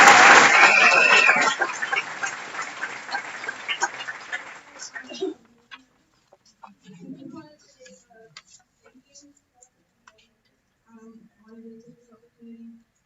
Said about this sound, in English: Let's have another round of applause for Noemi.